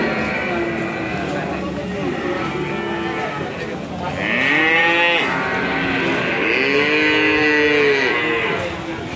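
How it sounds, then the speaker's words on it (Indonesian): Limousin feeder cattle low loudly at a busy livestock market, with several long, close moos over a murmur of people talking in the background. "Ini ada sapi-sapi bakalan jenis limosin."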